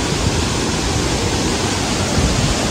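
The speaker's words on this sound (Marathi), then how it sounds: "वॉटरफॉल बघा" Loud, close, unbroken roar of a waterfall in a Konkan village, a dense rushing wash of water with no voices.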